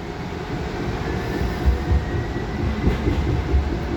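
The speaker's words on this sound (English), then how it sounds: "On the metro, all right." A metro train rides along the rails, a steady loud low rumble with rhythmic thumps of the wheels over track joints, heard from inside the car with no talking.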